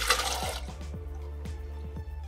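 Vegetable soaking water poured into a cooking pot for a potato and carrot molagootal, starting with a brief rushing splash that gives way to a series of close, hollow drips and trickles.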